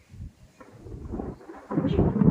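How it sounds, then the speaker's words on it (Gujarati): Thunder rumbles low and deep during the season's first monsoon rain. It starts faint and grows into a louder, heavier roll toward the end, with no voices. "કડાકા વીજળી પણ થાય છે"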